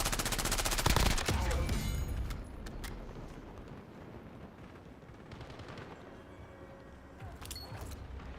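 In a military video game, dense sustained gunfire and automatic bursts roar loudly at first, then settle into a steady background of distant shooting with occasional louder sharp reports.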